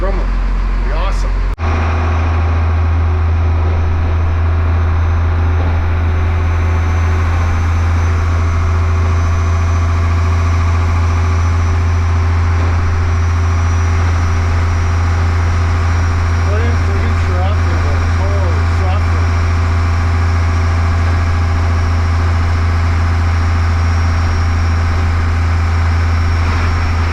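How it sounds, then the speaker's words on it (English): A Grumman vehicle driving along with its engine droning low and steady throughout, a constant close rumble while a person talks over it. "Relaxing drive in the Grumman there."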